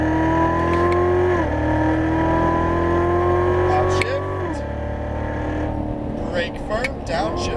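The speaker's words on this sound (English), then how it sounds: "As you unwind, squeezing the throttle down the straight" Chevrolet Corvette Z06 Stingray on a race track, engine howling as it accelerates through gear changes with rising pitch, then dropping off toward the end while a voice talks over it.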